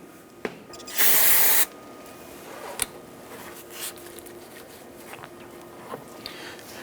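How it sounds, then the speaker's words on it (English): A single burst of aerosol solvent spray while cleaning a Ford Mustang brake area, a loud hiss lasting about half a second, followed by quiet workshop noise and a few small clicks. "take some spray solvent, give this a spray down"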